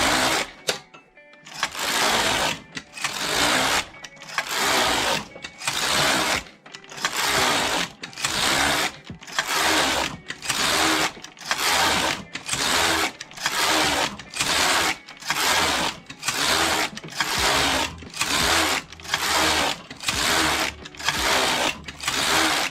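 A Passap E6000 knitting machine knits 26 rows of a mitten, the carriage sweeping back and forth in a steady run of loud mechanical passes with short pauses at each turn, close and with no talk.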